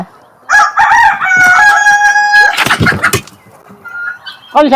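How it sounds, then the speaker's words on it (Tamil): A rooster crows loudly and close, one long drawn-out cock-a-doodle-doo, followed by some clucking and brief background noise. "கோழி"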